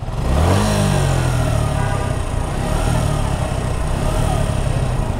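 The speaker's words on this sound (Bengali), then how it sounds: "প্রথমে একটু সাউন্ডটা শুনি" A second-hand Suzuki Gixxer FI ABS motorcycle engine revs up briefly, then runs at a steady, loud, close-up drone with no one speaking.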